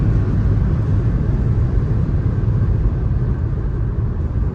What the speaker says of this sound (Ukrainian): Зараз покажу автомобіль в їзді.